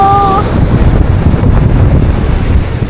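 Loud rushing wind buffeting the microphone with the roar of heavy surf and sea spray, a constant turbulent wash throughout.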